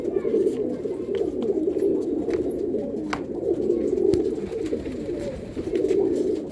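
A flock of pigeons originally brought from Andhra coo together in their loft, a steady chorus of low rolling calls with faint clicks and shuffling, close by.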